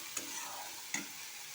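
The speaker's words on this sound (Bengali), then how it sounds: "এবার এটাকে আপনাদের একটু ভেজে নিতে হবে। বেশি ভাজতে হবে না, হালকা করে ভাজলে এটা হয়ে যাবে" A spicy semolina mixture fries lightly in a pan, giving a faint, even sizzle with two soft spatula strokes, no talking.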